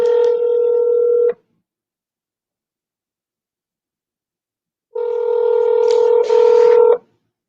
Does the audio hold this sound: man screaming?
no